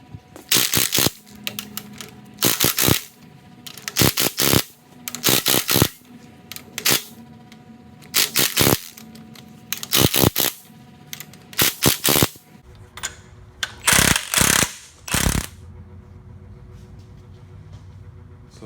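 Rapid bursts of sharp ratcheting clicks come in short repeated groups with pauses between them as strut bolts on a Pontiac G8 are snugged up, close and crisp.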